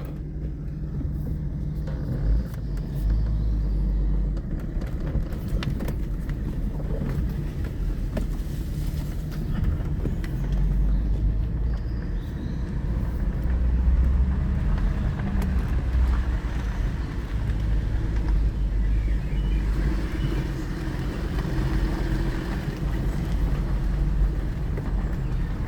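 A 2005 Audi A6 Avant with a 2.7-litre V6 TDI diesel engine drones steadily while driving, a low rumble mixed with road and wind noise, heard from inside the car without talk.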